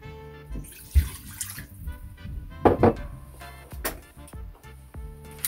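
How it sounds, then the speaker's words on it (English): A cup of water poured into a pot for Jamaican cornmeal porridge, a splashing pour with a few thunks and drips, close and moderately loud, with no talk. "I'm gonna be putting on a cup of water"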